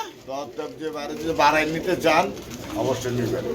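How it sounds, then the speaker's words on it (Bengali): Pigeons of a rare spangle-coloured variety coo in soft, repeated throaty phrases close by, with a person talking over them. "একটা রিয়ার কালেকশন স্প্যাঞ্জেল কালারের মধ্যে কাউয়া কবুতর"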